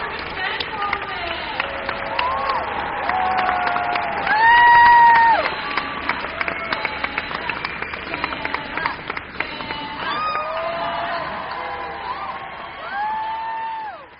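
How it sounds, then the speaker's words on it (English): An audience at a comic convention applauds and cheers as Jenna Coleman comes out, a crowd roar with whoops and clapping. Music and voices run loudly over it throughout. "Give a round of applause for Miss Jenna Coleman"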